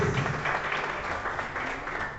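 A church congregation at an evening prophetic service applauds in a continuous, fairly loud wash of clapping that carries through the whole moment, with no clear speech over it.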